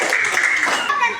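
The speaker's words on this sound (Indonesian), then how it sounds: "Ya, tepuk tangan untuk Dian." Brief burst of classroom clapping as pupils applaud a classmate's correct answer, steady and close for about a second, with children's voices mixed in.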